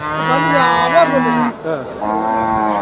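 Cattle at the Melapalayam livestock market low loudly and close by, with a long, sustained moo and a second bellow following it. A voice is also faintly present in the background.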